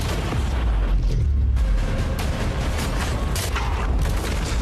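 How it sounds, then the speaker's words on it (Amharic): Cannons in a video game pound a wall with a dense, continuous barrage of booming blasts. Overlapping reports roll together at steady loudness with sharper cracks breaking through. "አሁን መድፎቹን ልንተኩስ ነው።"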